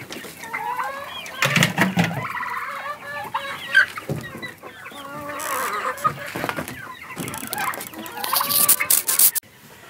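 Backyard hens cluck close by in a busy, irregular chorus of short calls that carries on steadily, with occasional rustling and faint human voice in the background.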